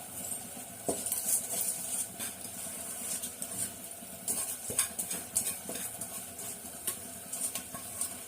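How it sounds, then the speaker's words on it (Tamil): Rice is added to half-cooked chicken biryani and stirred in a pot, giving scattered scraping and clinking spoon strokes over a steady low simmer, with no talking. "இப்போ நம்ம என்ன பண்றோம், அரிசி போட்டுக்கிறோம். ஒரே ஒரு கிளாஸ் அரிசி தான், அந்த அரிசியை போட்டுக்கிறோம்."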